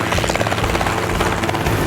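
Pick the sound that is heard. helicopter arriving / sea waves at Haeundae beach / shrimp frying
helicopter arriving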